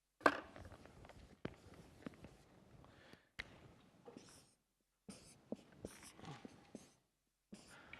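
A pen scratches across a board while a chemical structure is drawn: irregular short strokes and taps in clusters, with brief silent pauses between bursts, close and fairly quiet.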